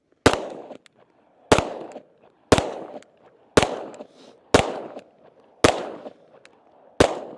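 Seven sharp gunshots ring out at a steady pace about once a second while a shooter moves along a course, each crack loud and close with a short echoing tail, no voices.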